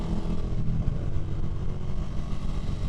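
A 2024 KTM Duke 390 motorcycle engine drones in a steady, close, low rumble with throttle held and no clear peaks, thick with wind noise throughout.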